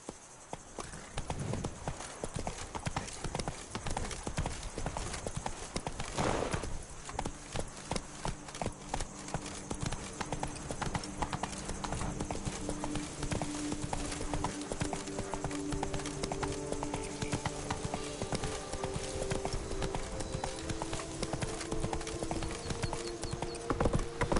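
Horse hooves pounding steadily at a gallop in The Witcher 3, a dense continuous clatter that stays loud throughout, mixed with game ambience and a low tonal hum.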